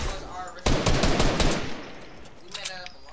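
Close, loud automatic gunfire sprays a wall in a video game, a rapid burst of cracks that fades into scattered shots, with voices talking faintly around it.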